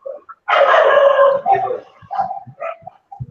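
A dog barks and yips in a loud burst of several overlapping calls close by, then continues in shorter, fainter yaps with some talk in the background.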